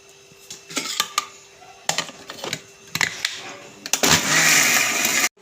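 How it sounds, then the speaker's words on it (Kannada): Mixer grinder grinding coriander with tamarind, turmeric and garlic for Mangalorean marvai pundi: rattling clatter and knocks first, then a loud steady motor whir that stops abruptly near the end. "ಸ್ವಲ್ಪ ಕೊತ್ತಂಬರಿ ಎಲ್ಲ ಗ್ರೈಂಡ್ ಮಾಡುವ"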